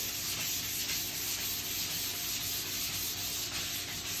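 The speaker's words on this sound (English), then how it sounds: "So I'm going to just heavy sand it." Heavy hand sanding on an oak door to strip old varnish, a steady, dense abrasive rubbing that continues without pause at close range, with no talking.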